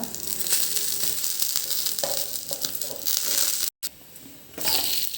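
Tomato and green chillies sizzle and fry in hot oil as a continuous, loud crackling hiss, with a brief silent cut partway through and the frying resuming afterward.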